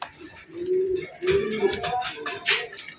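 A pair of pigeons coo close by in soft, throaty repeated phrases, with a few faint rustles and chirps around them.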